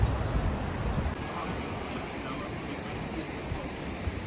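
Creek water rushing steadily along Creek Street in Alaska, a dense continuous wash of flowing water close by, with wind buffeting the microphone near the start.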